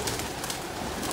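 Homing pigeons in a loft give soft, low cooing, a brief continuous murmur close to the listener with no talk over it.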